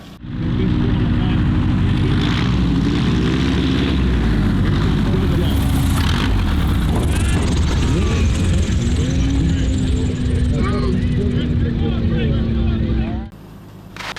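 A Cessna Cub light propeller airplane on a short runway, its engine droning loud and steady near the microphone throughout with a shifting tone, then cutting off abruptly at the end.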